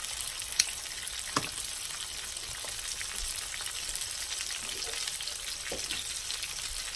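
Breaded chicken breasts fry in a pan, giving a steady close sizzle with faint crackles and a few sharp pops throughout, with no talking.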